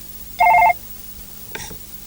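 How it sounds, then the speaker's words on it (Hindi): A telephone in an office in a Hindi horror TV serial gives a single short electronic trill, loud and close, followed by a faint click with quiet room tone around it. "हेलो सर, आपके लिए फोन है।"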